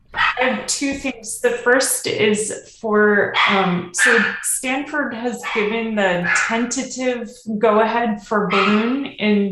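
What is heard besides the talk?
puppy barking in the background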